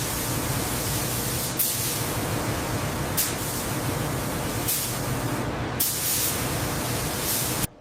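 Steady loud hiss of primer coating being sprayed in a rocket system factory, continuous spray noise with several brief breaks and restarts, close and with no voices.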